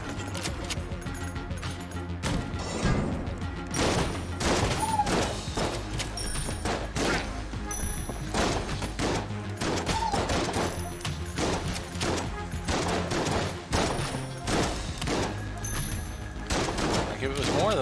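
Rapid gunfire from a bigger gun in the video game Enter the Gungeon rattles in dense repeated bursts throughout, loud and sharp over a steady game backdrop.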